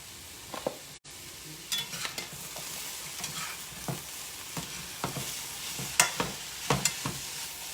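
A large batch of vegetables, including baby bok choy, is tossed into a hot pan, giving a faint steady sizzle with scattered scraping stirs and clacks of a utensil against the pan, close and quiet.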